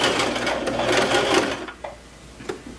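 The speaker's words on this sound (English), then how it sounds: "I'm doing another stretch stitch." Sewing machine running a stretch stitch along a track-pant hem, a continuous rapid mechanical whirr for about a second and a half, then stopping into a few quiet isolated clicks and taps.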